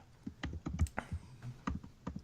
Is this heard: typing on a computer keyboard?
yes